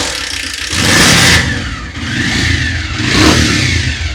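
A clean, fresh white-engine Bajaj Pulsar motorcycle on a used-bike showroom floor is started and revved, rising in two loud, smooth surges close by with a steady running note between them, no talk.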